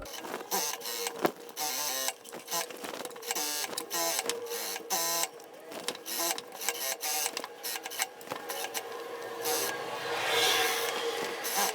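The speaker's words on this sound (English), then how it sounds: "I'm aligning the pressed edge of the top of my hem with the inside of my presser foot." A sewing machine runs along a skirt hem in short, stop-start bursts of quick mechanical stitching, close and fairly loud, separated by brief pauses throughout.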